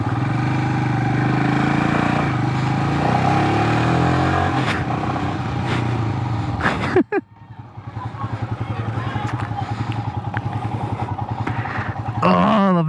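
Motorcycles rumble at a bike night in a parking structure, first as a steady, loud engine drone, then with a sudden drop into a throbbing idle and a brief rev near the end.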